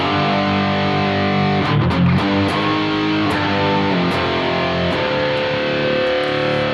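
An electric guitar played through a BOSS GT1000 processor with reverb and distortion sounds out sustained chords and single notes, loud and continuous, with ringing reverb tails filling the gaps.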